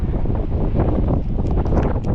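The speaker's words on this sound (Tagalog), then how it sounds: "Ang lakas ng hangin, napakalamig rin dito." Strong, cold wind buffets the microphone at Hoover Dam, a continuous loud roar and rustle with gusty flutter throughout and no voices.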